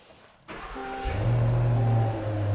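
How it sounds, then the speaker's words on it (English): A 2022 Range Rover Autobiography P530 with a 4.4-litre twin-turbo V8 starts up: a brief starter whirr, then the engine catches and settles into a loud, deep, steady idle close by. "I will fire it up so you can hear that amazing V8"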